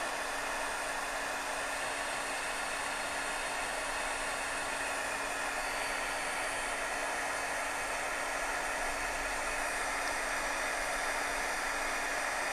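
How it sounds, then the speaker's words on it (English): A heat gun blows steadily over wet paint on an art journal page, giving a constant loud hiss with a faint electrical hum and no break from start to end. "More heat gunning."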